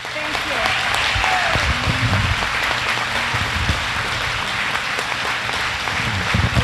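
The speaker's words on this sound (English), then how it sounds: "deserving applause." Warm, sustained applause from a ceremony audience at a Vietnam veteran lapel pinning event, dense clapping at steady volume across the whole stretch with some voices murmuring underneath.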